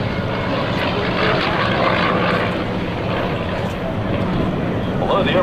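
A Vought FG-1D Corsair warplane's big radial piston engine roars steadily as it makes a photo pass at an airshow, a loud broad drone with no talk over it.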